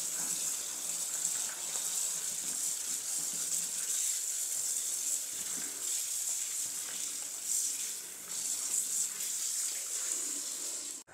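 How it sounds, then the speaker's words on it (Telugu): Tap water runs steadily over home-grown tomatoes and eggplants being washed, a continuous close hiss of flowing water with no talking. "ఇంక వీటిని శుభ్రంగా కడుగుదాము."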